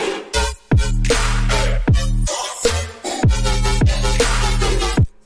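Heavy synth bass patch, run through OTT multiband compression with highs, mids and lows up and time maxed, playing loud sustained rhythmic notes with sharp gaps and pitch drops, alone with no talk.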